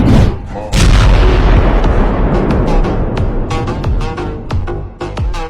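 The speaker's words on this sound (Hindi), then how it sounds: "इतनी तेज धमाके की आवाज" A loud film explosion booms out, followed by a dense rumbling roar and a string of sharp blasts and crackling gunfire-like bangs that continue to the end.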